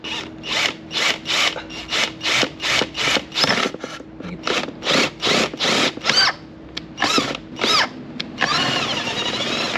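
A power drill boring a hole into a plated metal bracket for a BMW E39 530i fan clutch job, about a dozen short evenly spaced whining bursts up close, ending in one longer steady run.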